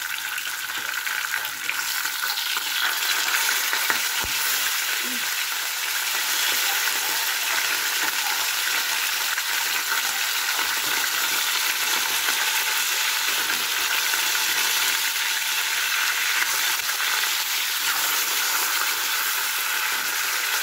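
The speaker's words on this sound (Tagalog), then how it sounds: "piprito natin ang tilapia" Salted tilapia frying in an old pan makes a loud, continuous sizzle and crackle, steady throughout and close, with no talking.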